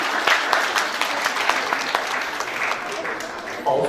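Audience at an annual function claps steadily through the clip, a moderately loud roomful of applause with scattered sharper hand claps and faint voices mixed in.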